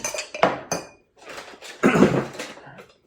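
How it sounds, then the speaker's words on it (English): Orange peel and bitters being muddled in a glass: a few quick, close knocks and clinks, then a longer grinding clatter against the glass, alone with no talking. "And then give that a little muddle as well."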